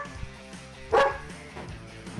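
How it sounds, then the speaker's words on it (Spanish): A single loud bark from a trained search and rescue dog at a rescue training site, rising briefly above a low background with faint fainter yelps around it. "Estos perros llevan una vida en familia, pero entrenan en promedio durante 2 años para convertirse en perros de búsqueda y rescate."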